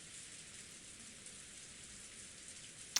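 Rain falls on a rose garden in the visual novel game Umineko, a faint, even hiss of drizzle throughout with a single tiny tick near the end and no voices.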